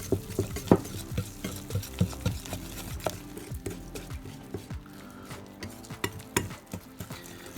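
Pancake batter made from Krusty's boxed mix and water being whisked in a bowl, a busy run of scraping, clicking strokes with occasional utensil knocks, close and steady, with no talking.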